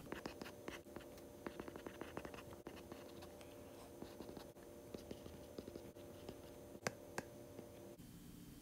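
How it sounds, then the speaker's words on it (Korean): Pen scratching and tapping on paper while two glucose molecule structures are drawn by hand, a faint continuous series of short strokes and clicks over a soft background hum. "포도당 두 분자를 한번 그려볼게요."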